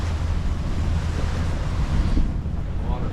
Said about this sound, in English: You can see the waves crashing on that island way off over there.